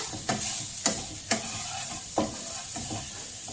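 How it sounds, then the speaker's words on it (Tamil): Spices stirred in a pan over a steady sizzle of oil, with several distinct spoon scrapes and knocks at uneven intervals, close and alone. "நல்லா கிண்டுதான், இல்லைன்னா ஒரு மாதிரி அடி பிடிக்கும்."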